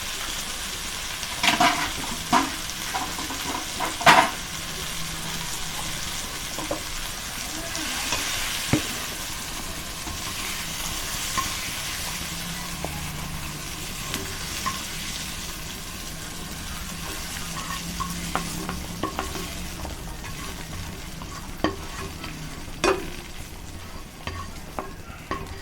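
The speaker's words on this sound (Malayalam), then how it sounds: "ഇതൊന്ന് നന്നായി വഴന്ന് വരുന്നവരെ നമുക്കൊന്ന് ഇളക്കി കൊടുക്കാം" Tomatoes sautéing in a pan give a continuous sizzle, with intermittent scraping and clinking as a spoon stirs them, close and fairly loud throughout.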